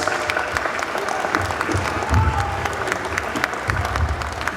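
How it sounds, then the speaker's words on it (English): A crowd at a bankers' dinner in Accra claps steadily for several seconds, a dense, even wash of applause with a few louder swells, no voices standing out. "Round of applause."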